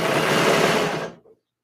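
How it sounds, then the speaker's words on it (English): A sewing machine stitching down pleats on a skirt runs loud and close in a steady whir for about a second, then slows and stops. "this would be the sewing machine"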